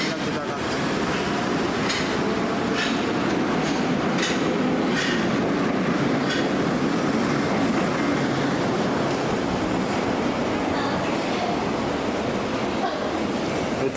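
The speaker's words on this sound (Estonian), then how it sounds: "Ja need rongid käivad siis iga 2-3 minuti tagant." A subway train runs through a busy Japanese metro station, a steady roaring rumble with rail clatter that fills the whole stretch, while crowd chatter murmurs underneath.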